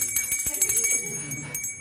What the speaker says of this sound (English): if you hear that bell, start wrapping it up pretty quickly